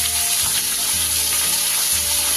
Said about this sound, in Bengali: ফুলকপিগুলো ভালো করে ভেজে নেব।